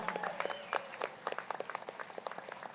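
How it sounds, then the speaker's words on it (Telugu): An audience at a spiritual gathering breaks into applause, a steady patter of many hands clapping, fairly faint and slightly distant, with no talk over it. "గట్టిగా చప్పట్లతో"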